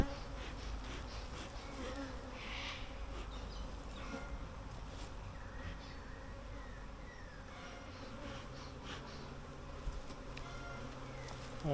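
Honeybees buzz steadily throughout a beehive inspection, an angry colony being smoked, the dense insect drone close and continuous with faint knocks underneath and no talk.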